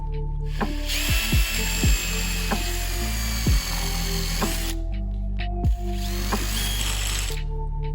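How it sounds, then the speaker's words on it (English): A power drill whines loudly and steadily, speeding up and slowing down in bursts, with short pauses and rattling clicks as it bites into metal on a scooter. "All right, so I gotta drill some more."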